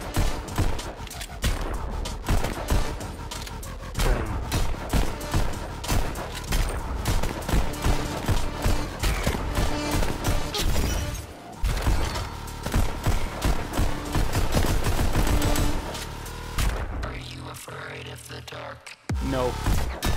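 Rapid gunfire from the player's colored pistol in the Pistol Whip VR rhythm shooter, loud continuous bursts layered over pounding music, with brief drops around the middle and near the end.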